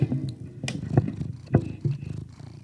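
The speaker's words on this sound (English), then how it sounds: "there's a little purr bucket" A house cat purrs close to the microphone, a steady low rumble with rhythmic swells roughly every half second, heard alone without talk.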